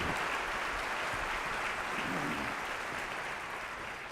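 An audience at a breakfast event gives a round of applause, heard as a steady, even wash of clapping that tapers slightly near the end.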